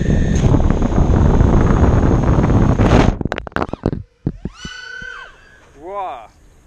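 Loud wind buffeting roars at first, then a racing drone's motors on a 5S lipo battery whine high-pitched, rising and falling in quick sweeps as it flies.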